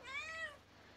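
A cat gives one short, clear meow, fairly faint and alone in a quiet room.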